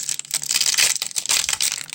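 Foil wrapper of an Ikoria Magic: The Gathering booster pack from a Japanese booster box being torn open up close, a bright crinkling and crackling rustle in quick, uneven bursts.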